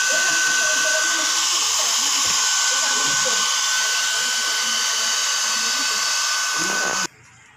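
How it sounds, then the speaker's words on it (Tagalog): A blower drying the ECU of a Honda PCX motorcycle gives a loud, steady close-up whoosh that runs without a break for about seven seconds before cutting off abruptly. "So, gagamit tayo ng blower."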